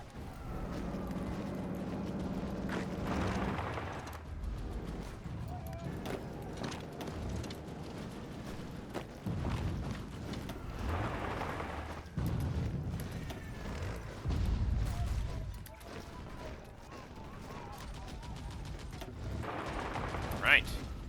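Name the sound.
gunfire and explosions in video game Hearts of Iron IV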